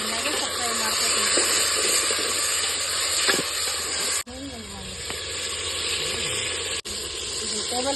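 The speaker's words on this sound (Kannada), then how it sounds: "ನಾನು ಒಂದು 4-5 ಟೊಮೆಟೊ ಕಟ್ ಮಾಡಿ ಇಟ್ಕೊಂಡಿದ್ದೆ ರೀ, ಹಾಕೋತೀನಿ ನೋಡ್ರಿ ಇದಕ್ಕೆ. ಎಣ್ಣೆಗೆ ಸ್ವಲ್ಪ ಫ್ರೈ ಮಾಡ್ಕೊತೀನಿ." Chopped tomatoes fry in hot oil for a chicken gravy, giving a loud, steady sizzle and hiss close by, briefly broken by a couple of stirring pauses.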